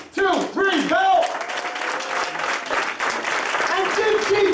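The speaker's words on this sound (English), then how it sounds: "And give Jesus a round of applause." A church congregation breaking into applause, a dense wash of clapping mixed with loud shouts and cheers from a preacher and the crowd.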